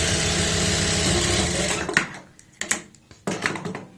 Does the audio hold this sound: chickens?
no